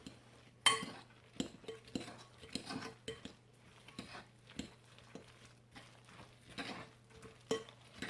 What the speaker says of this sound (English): we're going to give them another stir and a mix